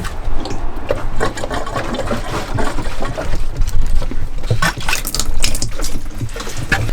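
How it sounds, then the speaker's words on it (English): Water running into a container in a converted short school bus kitchen, a loud, steady rushing and gurgling flow that continues throughout, close to the microphone with no talk. "I'm just gonna get a little bit of water"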